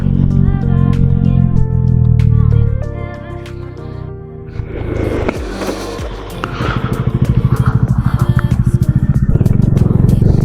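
A motorcycle rides a steep mountain road in Ladakh on the way from Hunder to Pangong, held in low gear; its engine drones loud and close with a rattling, pulsing note that grows rougher partway through.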